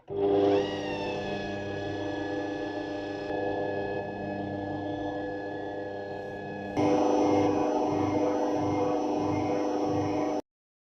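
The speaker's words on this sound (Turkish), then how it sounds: "Tekrardan mikserimi çalıştırıyorum." An electric hand mixer whirs steadily while mixing cake batter with oil and milk, its motor pitch shifting and growing louder partway through, then it cuts off abruptly.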